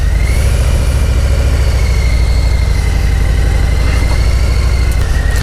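A 2018 Harley-Davidson Heritage 114 motorcycle idles close and loud with a steady low rumble, and a brief faint clunk comes near the end as it shifts into gear.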